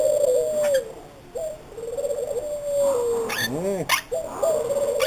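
Pet birds call and coo close by. Steady whistled hoots repeat with a swooping warble and brief sharp squawks in between.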